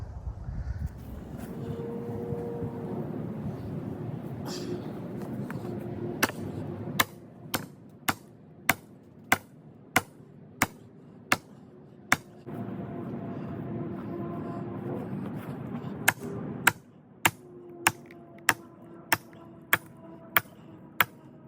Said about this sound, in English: I got kind of a wimpy sledgehammer, but this should split it.